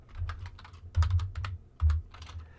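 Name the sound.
typing HTML on a computer keyboard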